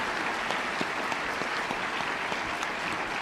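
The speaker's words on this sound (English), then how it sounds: "Applause." Convention audience applauding steadily throughout, a dense even wash of many hands clapping with no speech.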